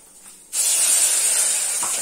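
Okra dropped into hot oil in a home kitchen sets off a loud, steady, close sizzle that starts abruptly and keeps hissing evenly to the end.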